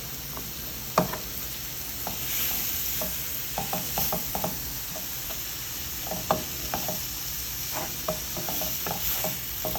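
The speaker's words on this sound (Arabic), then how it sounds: "غادي نحرك" Garlic, spices, onion and leek are stirred in a hot pan, a continuous sizzle carrying repeated scraping and knocking strokes of the utensil, close and fairly loud with no voices.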